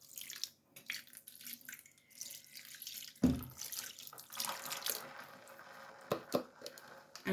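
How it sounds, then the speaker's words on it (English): Purple acid dye stock poured over navy dye in a pot, with intermittent splashing and trickling liquid, a sharp splash partway through, and faint handling noises between pours. "So we're going to pour this over the top of our navy."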